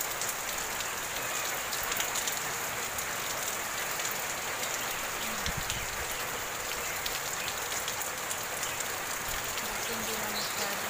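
Steady heavy rain from Typhoon Ulysses drums on a surface with a constant hiss, with wind, no pauses, close and loud throughout.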